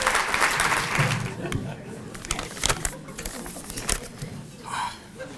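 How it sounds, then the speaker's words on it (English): Diners at a Hall of Fame dinner clap for a man making his way from the back of the hall to the front. The applause is moderately loud and uneven, mixed with voices talking. "I told him he'd get a big round of applause walking all the way to the front"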